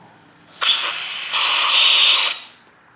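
Air rushes out of an off-road tire through an ARB rapid air deflater as a loud, steady hiss lasting about two seconds, with a brief dip partway through, starting and stopping sharply.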